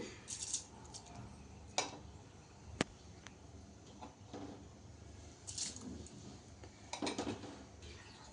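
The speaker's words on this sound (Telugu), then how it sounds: "ఇప్పుడు మనం ముందుగా కడిగి ఉంచుకున్న బియ్యంను పెసులను ఇందులో" Washed rice and moong dal tipped into a pot of salted water for khichdi, giving a few soft rattling clinks and wet squishing sounds spread out at a low level, with no talking.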